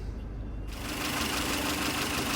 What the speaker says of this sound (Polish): Silnik pracuje bez zarzutów